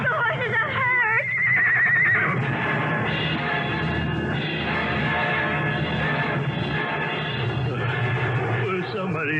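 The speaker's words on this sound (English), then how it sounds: "It's empty with 2 runaway horses. The horses are hurt." Two runaway, injured horses neigh and whinny near the start of a radio drama scene set in Pompeii, the calls rising over a dense bed of crowd commotion and talk that continues throughout.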